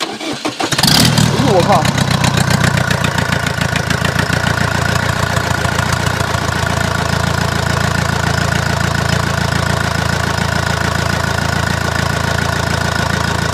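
A repaired diesel engine, fixed after water got into a piston, cranks and catches with a loud burst, then settles into a steady, even idle close by while a man exclaims over it.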